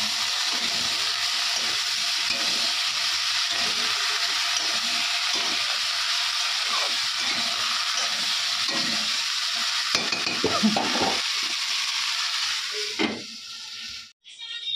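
Spices fry in a pan with a steady, close sizzle and hiss, broken by the scrape of occasional stirring, and a clatter of movement at the very end.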